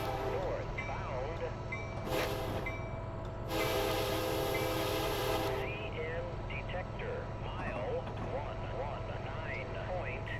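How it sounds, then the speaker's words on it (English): A Metra SD70MACH locomotive in Train Sim Classic sounds its horn at a grade crossing: a short blast then a longer sustained one, loud over rumbling train noise, with someone talking around it. "Probably going to have to sound the horn at this crossing here."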